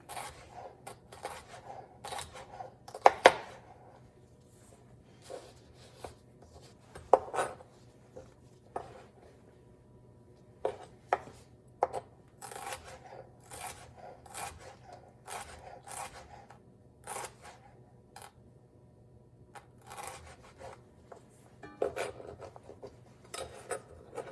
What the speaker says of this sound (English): we'll do that in a small dice as well, starting with the julienne